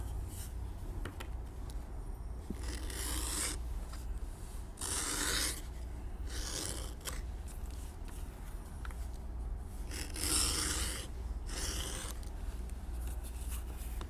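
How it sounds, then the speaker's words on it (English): Edge beveler shaving along the top and bottom edges of a leather strap, a series of soft, close scraping strokes repeating every second or two over a steady low hum, with no talking. "Next, I will take my edge beveler and bevel the edges, both top and bottom."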